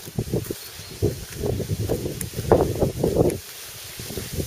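Gusts of wind buffet the microphone in uneven bursts in a holiday-home garden in Békésszentandrás, Hungary, a rumbling, rustling noise that rises and falls close up.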